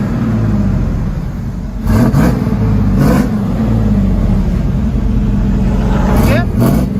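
A 1994 Chevy Silverado 1500 with a 5.7L V8 and dual Borla Pro XS exhaust idles with a deep rumble and is revved in several short, loud bursts close by.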